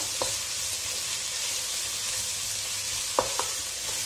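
An egg mixture for a Malabar prawn chatti pathiri sizzles steadily in a pan, a constant bright hiss, with a few faint clinks of stirring scattered over it.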